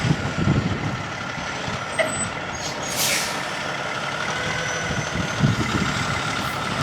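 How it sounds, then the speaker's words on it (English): A long delivery truck bringing a CNC machine to a machine shop rumbles with a steady low engine drone. A sharp burst of air-brake hiss cuts in midway, with fainter mechanical clanks around it. "That's a long truck."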